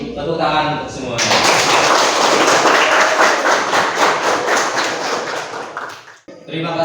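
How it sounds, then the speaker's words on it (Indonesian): A class of students in an Islamic teacher-training classroom lesson claps together in a dense, steady burst of hand claps for about five seconds. A voice speaks briefly just before and just after. "Tepuk tangan untuk semuanya."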